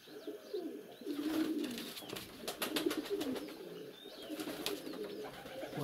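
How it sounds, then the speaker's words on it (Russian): A pigeon coos in soft repeated rounds, close and moderately loud, with a few faint bird chirps around it and no talk. "Вот который вот этот воркует вот здесь"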